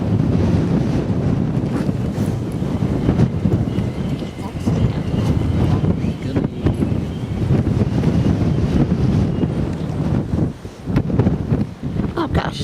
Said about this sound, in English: Oh gosh, isn't it windy?